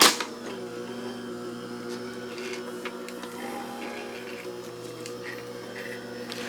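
A compact die-cutting and embossing machine runs ornamental embossing dies through on a magnetic mat, giving a steady mechanical hum with faint clicks and ticks, close by and without talking.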